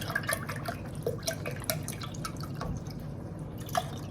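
Beef broth is poured into a pan for beef enchiladas, making a faint trickle with scattered soft drips and splashes, close by and without talk.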